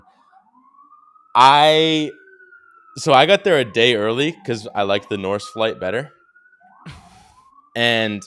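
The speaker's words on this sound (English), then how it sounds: "Sorry about the sirens in the background." A wailing siren rises and falls steadily in the background while someone talks loudly over it.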